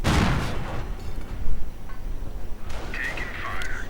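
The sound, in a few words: Wolverine tank destroyer firing in a video game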